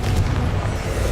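A Confringo blasting spell detonating in Hogwarts Legacy, a deep, rumbling boom that holds loud and thick for just over a second.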